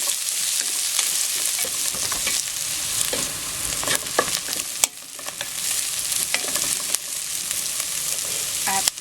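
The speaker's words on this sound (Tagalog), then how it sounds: "isunod po natin itong sibuyas. Okay, hintayin lang natin na medyo maluto ng konti yung sibuyas." Chopped onion sizzles and crackles steadily in a hot oiled pan, the base for a macaroni soup, with occasional sharp pops and scraping stirs close up, no one talking.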